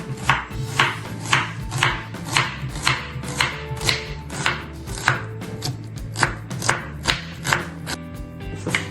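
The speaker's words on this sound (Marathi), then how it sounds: "पहिले कांदा उभा चॉप करून घेऊया" Knife chopping an onion lengthwise on a cutting board, a steady series of crisp, evenly spaced close-up strikes, about two per second, with no talking.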